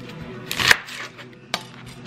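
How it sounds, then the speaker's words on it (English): A knife cuts through an onion on a cutting board while cooking cabbage and sausage. Two distinct close chops land about a second apart, the first with a brief scraping rustle. "Next, I'm going to cut this onion here."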